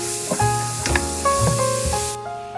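Beef Wellington filling fries in a pan until completely dry, giving a steady loud sizzle broken by scraping stirs and short tonal clinks, with no voices.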